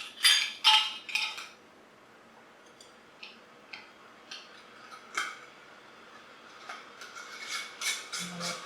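Apple jelly is poured into glass jars, giving light clinks and taps of glass and metal in a quiet kitchen, with a few louder knocks early on and scattered small ticks after.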